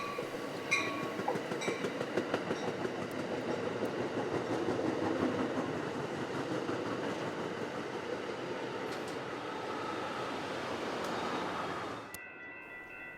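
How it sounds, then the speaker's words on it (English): A Metrolink commuter train rumbles through a rail junction near Orange, with continuous close wheel and track noise and faint clickety-clack throughout, ending abruptly into quieter ambience. "Metrolink 857 has just arrived at the junction for its turn to make its stop in Orange"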